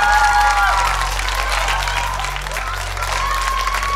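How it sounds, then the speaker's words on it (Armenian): Audience applause for Barbara Streisand on a televised talent show, a loud, dense burst of clapping with some cheering that holds steady across the clip as crowd noise and faint voices mix in. "այո, ծափար ենք Բարբարա Սթրեյզենդին"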